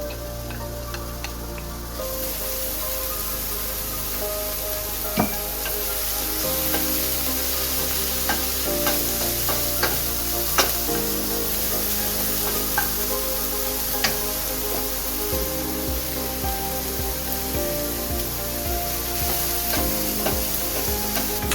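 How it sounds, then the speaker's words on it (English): Arborio rice toasts in extra virgin olive oil with sautéed shallots and garlic, giving a steady close sizzle broken by scattered sharp ticks and pops as it is stirred. "and then the rice goes in for toasting"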